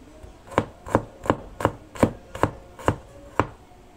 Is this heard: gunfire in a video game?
no